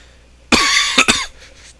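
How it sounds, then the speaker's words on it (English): A single burst of coughing, two or three quick harsh hacks close to the microphone, loud against near silence. "sorry for coughing at you."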